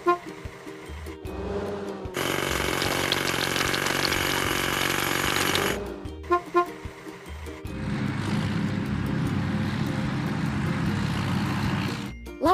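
A hydraulic hammer pounds and cracks large rocks in two long, loud, continuous bursts of harsh rattling. Short pauses come before, between and after the bursts.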